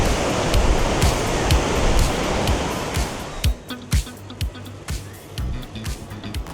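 Surf washing onto a busy St Ives beach in Cornwall, a broad steady roar of waves that thins out midway, with scattered sharp knocks and faint crowd sounds.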